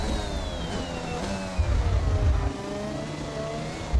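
Open-wheel F1 car engine in the racing game F1 2021, a steady high-pitched whine that rises as the car accelerates, with low rumbling bursts midway and again at the end; no voices.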